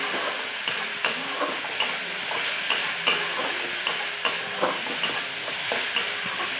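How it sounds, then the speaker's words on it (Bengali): Ginger and garlic sizzling in a pan for a bottle-gourd kofta curry, a steady hiss of frying broken by regular scraping strokes of a spatula about once a second; no voices. "আদা রসুন একটু ভাজা ভাজা করে নিয়েছি।"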